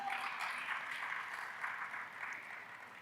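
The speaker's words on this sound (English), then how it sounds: "A big round of applause to her," An audience at an evening women's awards gala applauds in a faint, distant, sustained wash of clapping that holds steady without speech.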